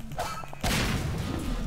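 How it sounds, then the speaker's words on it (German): A sudden loud Half-Life 2 game explosion at about two-thirds of a second, followed by a broad rumbling roar that lingers to the end, after some light thumps. "Explosion."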